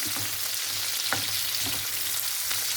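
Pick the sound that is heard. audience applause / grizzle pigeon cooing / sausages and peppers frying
sausages and peppers frying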